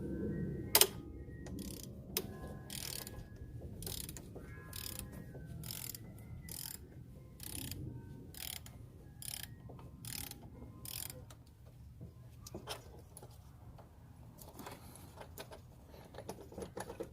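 Fasteners being backed out of a 2003-2006 Kia Sorento thermostat housing after the coolant is drained, heard as quiet ratcheting clicks and metallic mechanism ticks in bursts, close and fairly faint, with no talking.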